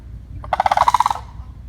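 A large, odd-looking bird in Florida lets out a quick gobbling call, about a dozen rapid rattling pulses delivered close and loud, with no other sounds around it.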